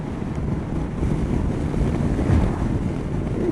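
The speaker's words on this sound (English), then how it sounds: "5th gear, 40 miles per hour." A 2014 Kawasaki Versys motorcycle cruising in 5th gear at about 40 mph, heard as a steady low engine drone blended with heavy, constant wind rush across the microphone.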